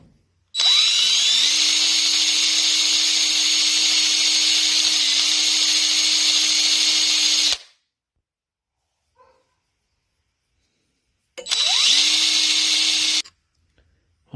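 A motorized buffing wheel polishes a restored tobacco pipe, running as a loud, steady high-pitched whir for several seconds, stopping into silence, then spinning up again for a shorter burst.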